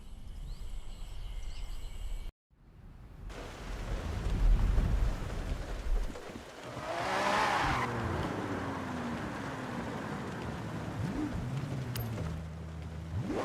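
A Lamborghini Aventador races in Forza Horizon 6, its engine revving and shifting through gears with tyre squeal and skidding, broken by a brief cut of silence near the start.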